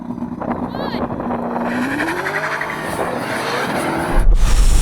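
A Tesla Model S Plaid and a Ferrari SF90 launch side by side in a drag race. A steady engine hum climbs into a rising, accelerating whine over loud rushing road and wind noise, ending in a buffeting gust, with voices faintly in the mix.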